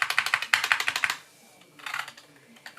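Fast clacking keystrokes on a keyboard with Tai Hao rubber keycaps and Gateron optical black switches, a close burst of about a dozen presses, a pause, then a few more taps.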